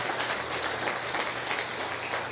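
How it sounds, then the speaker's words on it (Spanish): A church congregation applauds, a steady dense patter of many hands clapping at a distance, fairly faint, with no voices. "Dale un aplauso al Señor."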